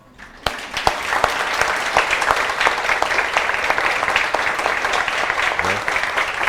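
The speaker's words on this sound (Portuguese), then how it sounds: "eu gostaria de uma salva de palmas para ela ali" An audience breaks into loud, dense applause for the speaker's mother at a community gathering, starting sharply and sustaining a steady roar of many hands clapping close by.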